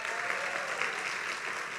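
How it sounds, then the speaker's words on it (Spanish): Church congregation applauding in a worship service: a steady, dense wash of many hands clapping at even loudness throughout, with no voices standing out. "Que le da otro fuerte aplauso a Dios,"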